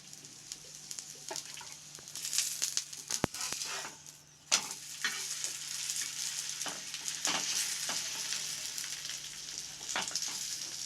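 Egg paratha frying in oil on a pan, a steady close sizzle with scattered crackles and a few sharp clicks, plus faint bird calls in the background and no talk.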